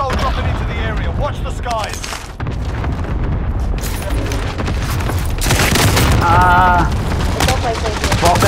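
A rocket-propelled RPG blast in Call of Duty: Modern Warfare, heavy booming explosions and rumbling gunfire filling the mix, loud and near, with someone talking over the noise.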